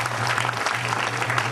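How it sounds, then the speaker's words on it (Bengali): Audience applause at a church program honouring newly ordained priests, a dense steady clapping that sounds moderately close and continues evenly without voices standing out. "সবার জন্য হাততালি।"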